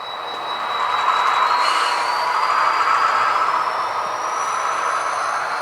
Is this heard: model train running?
yes